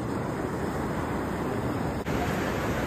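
Broad, steady surf wash rolls in continuously at a beach in San Vicente, Ilocos Sur, a constant near roar of sea waves with no one speaking and only a brief dip in the noise.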